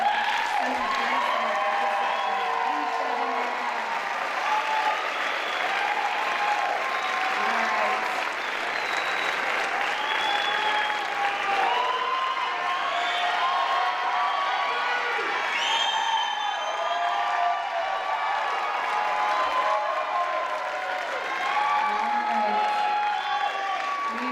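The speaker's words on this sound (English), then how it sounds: "All right, please give a round of applause for all the" Pageant audience applauding steadily throughout, dense sustained clapping with scattered cheers and whoops from a large crowd, loud and continuous.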